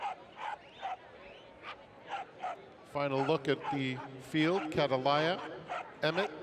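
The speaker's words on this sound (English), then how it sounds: "You can hear the barking all the way upstairs." Corgis bark and yip before a Corgi race at the Saratoga racetrack, repeated high excited barks and whimpers, near and fairly loud, mixed under a man announcing over a public address.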